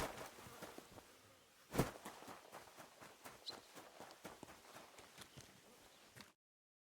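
A horse walks in the video game Kingdom Come Deliverance 2, its hooves clip-clopping in a steady, fairly quiet rhythm with one sharper knock partway through, before the sound cuts off into silence.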